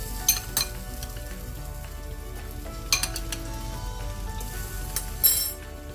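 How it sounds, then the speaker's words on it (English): Steady sizzling of potatoes frying in hot oil in a pan, with occasional sharp clinks of a utensil against the pan. "frying our potatoes separately."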